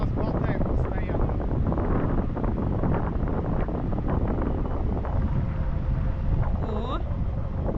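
Strong downdraft wind during a tandem paraglider flight at Kunda, Estonia, buffets the microphone in a constant heavy roar, with muffled sounds tumbling underneath.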